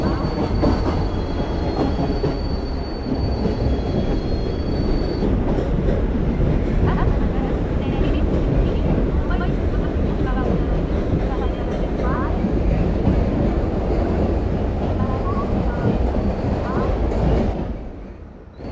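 An Indian local commuter train in a video game rolls and brakes to a stop, with a continuous loud rumble of wheels on rails and squealing that runs throughout before fading out at the very end.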